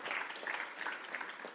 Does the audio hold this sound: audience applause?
yes